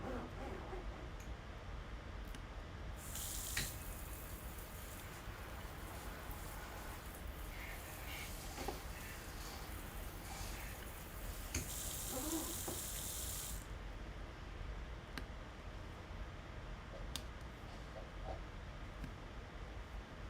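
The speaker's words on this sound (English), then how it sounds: "we need to turn on the sprayer thing" A kitchen sink sprayer runs water in a steady hissing rush, starting abruptly, easing slightly through the middle and then cutting off, with quieter background sounds before and after.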